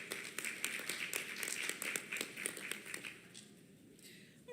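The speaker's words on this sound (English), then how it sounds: "Thanks again. Big round of applause for them." Conference audience at a Cayman Islands healthcare conference gives a round of applause, sharp clustered claps at moderate distance that thin out and fade toward the end, soft and without voices.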